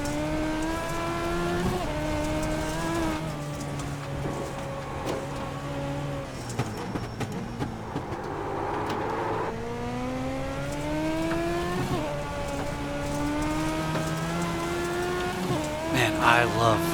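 A Legends race car roars across a dirt track at Daytona in a racing video game, its engine note climbing and dropping through gear changes in continuous rising sweeps, loud and close, with someone talking over it.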